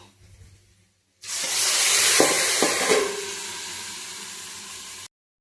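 Chilli paste, lentil vadi and fried onion hit hot oil in a pan with a sudden loud, bright hiss that holds steady for a few seconds before cutting off, broken by a couple of spatula knocks and no speech.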